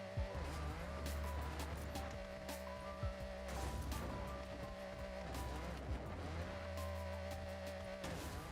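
Lamborghini supercar in the Forza Horizon racing game driving down a mountain road, steady loud engine drone with gear-shift changes and several sharp tire squeals scattered throughout.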